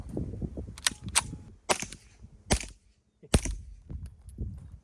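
Suppressed 9mm HuxWrx Rex 01 pistol with a HuxWrx Flow Range 36 TI silencer firing 150 grain subsonic ammo: about five sharp, muffled reports spaced irregularly, with faint mechanical clatter between shots.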